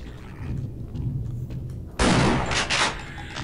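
Gunfire in the video game Half-Life Blue Shift: muffled game sounds first, then a sudden loud burst of rapid shots with a booming impact, fading into echoing noise.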